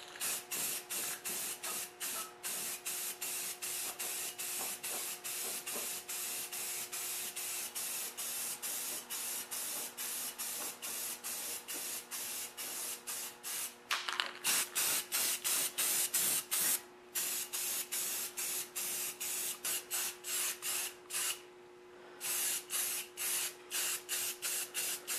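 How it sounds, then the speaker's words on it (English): Spray paint hisses from an aerosol can onto a metal welding cart in close, rapid bursts of short pulses, a steadier hiss around the middle, then a few brief pauses before the spraying resumes. "I'm going to spray the paint, let it dry a few minutes"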